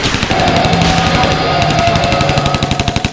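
Rapid machine-gun fire from a video game battle against poachers, with loud sustained bursts of closely spaced shots that continue across the whole stretch.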